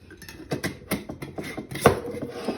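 A coffee grinder takes a few taps to settle the grounds, giving several hollow knocks and light rattles in an uneven rhythm, close and moderately loud, with no speech.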